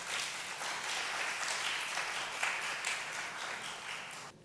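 A church congregation at a Seattle Korean unification mission summit applauds to welcome the pastor, a dense, even wash of clapping heard from some distance and held at a steady, moderate level throughout.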